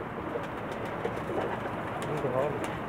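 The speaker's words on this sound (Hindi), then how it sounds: "ये उस्ताद जावेद के हाई फ्लायर कबूतर हैं।" High flyer pigeons belonging to a pigeon keeper coo softly and continuously at close range, with a murmur of several birds blending into a steady low background.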